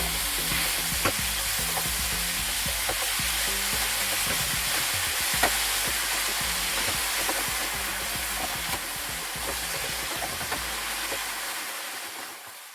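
Minced beef and onion fry loudly in a pan, a dense continuous sizzle with frequent scraping stirs and small knocks over about thirteen seconds, fading slightly at the end.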